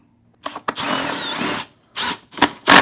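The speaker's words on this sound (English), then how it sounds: "you're gonna take your drill or your wrenches, and you're gonna push these in with your a few turns" A power drill driving parts into a toddler mobility trainer runs in close, loud bursts: a short blip, then a long steady whir of about a second, followed by two more brief runs.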